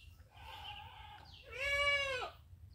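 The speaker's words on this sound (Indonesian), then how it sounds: "kambingnya bunyi terus guys, lapar nih" A hungry goat bleats loudly and close in a hot farm setting, first a longer wavering call, then a stronger, higher bleat with a steady low rumble of wind or background noise beneath.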